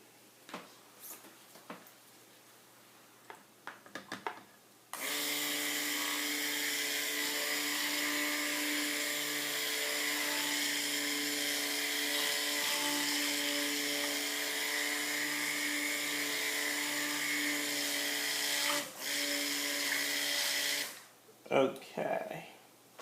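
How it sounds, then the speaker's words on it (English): An electric blender mixes aloe vera liquid and fragrance for soap, running as a steady, whining motor hum for about fifteen seconds, with quieter handling noises before and after. "And then I'm going to blend them up a little bit."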